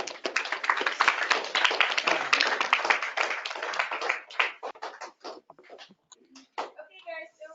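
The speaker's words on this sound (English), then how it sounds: "One more round of applause." Applause from a live conference audience, a dense wash of many hands clapping for about four seconds before thinning into scattered claps and fading.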